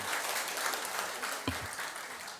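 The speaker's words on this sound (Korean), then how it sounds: "박수 한번 주십시오" A church congregation claps steadily throughout, a dense, even wash of applause at moderate volume with no voices.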